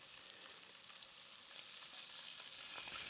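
A pan of food with teriyaki sauce sizzles on a hot burner, giving a continuous, faint, hissing crackle with small pops and no voices.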